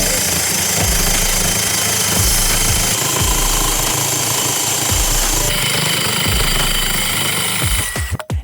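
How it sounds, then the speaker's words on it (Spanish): A cheap plastic circular-saw attachment on a drill cuts, a loud continuous buzzing whine with repeated rough thumping pulses as the blade bites, before the motor winds down at the end. "Por 19 euros transformamos el taladro en una sierra circular."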